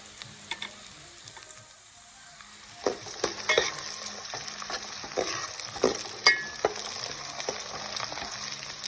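Aromatics such as ginger, garlic and onion are stirred in a pot for salmon-head sinigang. A quiet sizzle runs throughout, joined after a short pause by irregular utensil scrapes and clinks, close by, with no talking.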